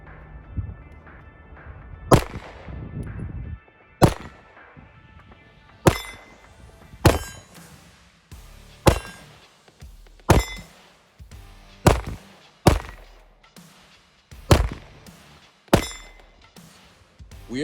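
Handgun fired on a range with a Vortex Defender CCW red dot sight, a series of sharp, loud shots spaced about every one to two seconds, each ringing out briefly with a short echo, no talking.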